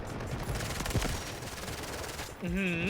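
Fast pistol fire in the Delta Force video game, quick loud shots blending into a dense rattle, which ends in a rising electronic tone.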